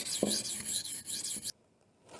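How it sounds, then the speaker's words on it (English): Knife being sharpened on a 400 grit stone at about 14 to 15 degrees per side: a few close, raspy rubbing strokes in quick succession, then the scraping stops into near silence. "start sharpening again. This is at 400 grit at about 14 to 15 degrees per side."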